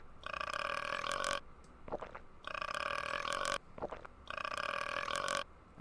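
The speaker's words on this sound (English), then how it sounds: "burp special effects" Synthesized burp song from the Grossology edutainment video game: sustained tonal burp-like phrases with strong harmonic bands, three long bursts separated by brief gurgling gaps, loud and close.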